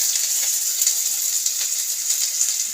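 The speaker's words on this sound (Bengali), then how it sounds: "পেঁয়াজ দিয়ে ভাজা করছি।" Pointed gourd and onion fry in a pan, giving a soft, steady sizzle and hiss close by with no talk.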